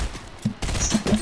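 Rapid gunfire in a video game, a dense burst of overlapping shots under a player's voice, close and fairly loud throughout.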